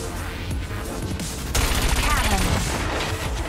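A cannon weapon fires in the futuristic racing game Wipeout 2047, a loud rapid burst of shots that cuts in midway over the game's music and engine whine, sustaining to the end.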